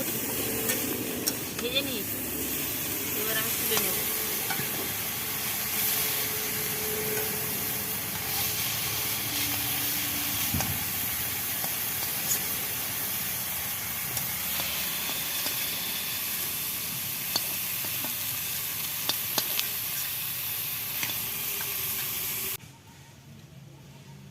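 Broccoli frying in hot oil in a pan, a steady close sizzle and hiss that runs unbroken for over twenty seconds before cutting off, with faint stirring scrapes now and then.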